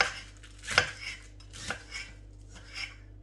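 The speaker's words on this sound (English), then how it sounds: "you're just going to chop it just very roughly" A knife roughly chops spinach on a cutting board, striking in a few uneven, sharp knocks with scraping between them, close and distinct without talk.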